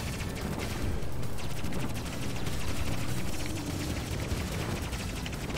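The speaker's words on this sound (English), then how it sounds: "See, as soon as they come on, they shoot you." Enemy gunfire in the video game Panzer Dragoon: Remake, dense rapid bursts of shots rattling steadily over a rumbling game backdrop for several seconds.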